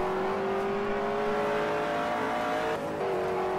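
Heard on board, the Rover SD1 Vitesse 3.6 litre V8 touring car roars steadily at high revs during a 1985 New Zealand touring car race at Wigram, with a brief dip near the end.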